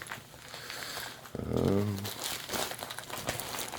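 Crinkling plastic of a Rearz Halloween Haunts disposable diaper with thick plastic backing, close and steady, swelling into a louder rustling burst midway, with faint voice sounds in the background.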